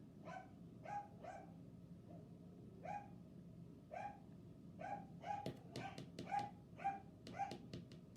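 A pet dog named Boogie barks repeatedly at close range, a string of sharp woofs spread across several seconds, some spaced apart and others in quick bursts, in an indoor room with no talking.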